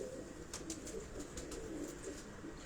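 Pigeon at a breeder's loft cooing with soft, low repeated calls amid steady background noise and occasional sharper bird chirps, with no voices.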